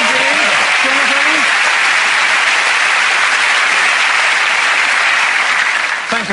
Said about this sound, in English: Thank you for that round of applause.